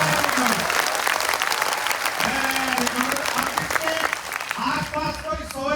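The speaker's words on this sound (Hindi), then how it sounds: "जोरदार बजाओ तालियां, ऊपर हाथ करके बजाओ भाई" A crowd of children claps loudly with raised hands, a dense and sustained wash of applause with a voice speaking over it throughout.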